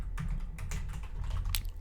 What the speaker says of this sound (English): You may have seen that while I was typing it up